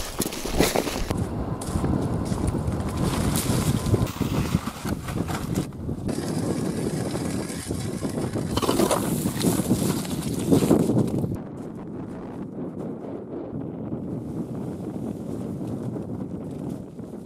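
Strong wind on the Volga riverbank buffets the microphone with a heavy, roaring rumble that gusts and eases, then drops to a quieter steady blow.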